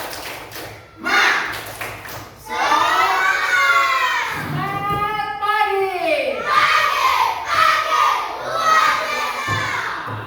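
In a classroom, schoolchildren clap a rhythmic spirit cheer and shout together in loud, close chants, with a teacher's voice briefly heard at the start and ragged group shouting rising and falling throughout.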